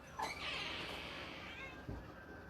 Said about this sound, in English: I'm tired of his meowing.